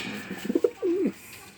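A racing pigeon from a loft coos nearby, a few soft throaty notes leading into one longer rolling coo, clear against a quiet background.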